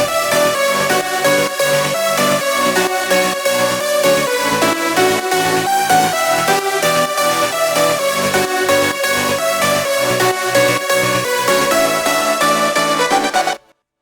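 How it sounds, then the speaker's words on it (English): Aggressive progressive house arrangement layering basses, a pad, chords and lead synths, playing as one loud, dense, continuous mix with a steady driving pulse for about thirteen seconds before cutting off abruptly. "the basses, the pad, the chord, and the leads, it sounds like this together"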